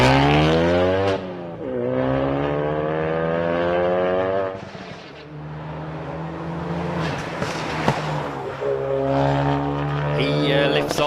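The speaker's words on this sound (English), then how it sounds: "You could hear the popping and the spluttering from the gearbox going down the revs." A rally car engine revs high then drops off, the gearbox popping and spluttering as it decelerates off the line on a rally stage, loud and close before roaring up again.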